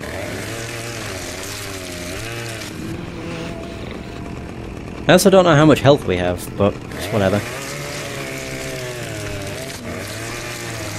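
Chainsaw revving in bursts against zombies in Saints Row 2, a loud buzzing stretch in the middle with short choppy pulses after it, set amid game noise while someone talks over the scene.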